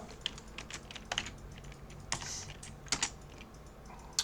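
Close, quiet typing on a computer keyboard, with irregular individual key clicks and short bursts of keystrokes and no voice.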